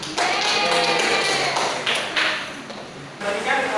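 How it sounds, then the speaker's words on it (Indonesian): Students in a high school classroom applaud for two classmates with a burst of scattered clapping and taps that swells and fades in waves, mixed with voices. "Beri aplaus untuk Bayu dan Meli"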